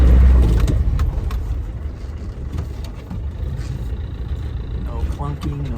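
A 1996 Land Rover Defender 90 with a 300Tdi diesel runs in reverse, a low engine drone that starts loud and settles to a steady hum, with a voice speaking over it.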